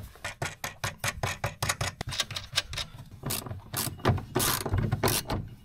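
A ratchet clicks in quick bursts while nuts are tightened to mount an Orion charger in a camper truck's electrical install, close and sharp, with pauses and some clattering handling between runs.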